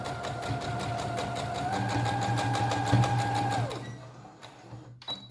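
Sewing machine stitching a fabric placemat cover, a close steady motor hum with a fast regular needle clatter that rises slightly in speed, then winds down and stops, followed by a few faint handling clicks.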